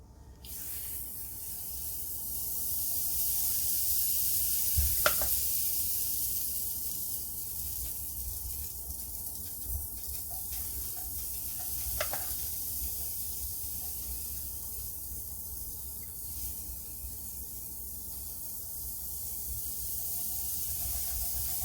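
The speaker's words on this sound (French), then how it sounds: "vous venez huiler votre surface et on va pouvoir passer à la cuisson des pancakes" Pancake batter cooking on an oiled steel griddle plate, a continuous soft sizzle and hiss held steady throughout, with a couple of sharp brief clicks along the way.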